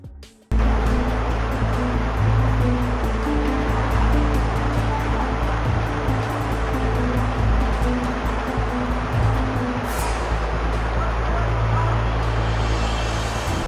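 Rushing floodwater during a flood in China roars loud and continuous, a dense churning wash recorded from a camera inside a bus.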